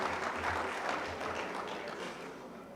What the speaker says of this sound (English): I think my team again deserves a round of applause